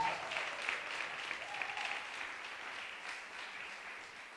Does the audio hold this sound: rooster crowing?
no